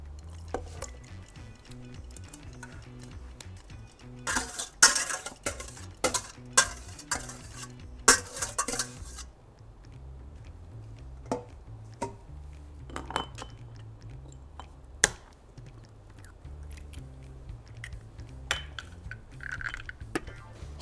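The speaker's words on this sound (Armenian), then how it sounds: "Հիմա խառնում եմ։" A spoon stirs a yogurt and egg mixture in a metal pot, with irregular scraping clinks and taps, a dense burst of clattering strokes early on, then quieter intermittent stirring, close and alone.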